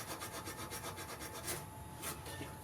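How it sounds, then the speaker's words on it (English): Close, steady rubbing and light rasping of a gentle Scotch-Brite type kitchen cloth polishing metal on a Tecumseh carburettor, in a continuous back-and-forth rhythm with no talking. "I'm just going to give this a little ginger brush with a very gentle Scotch-Brite type cloth"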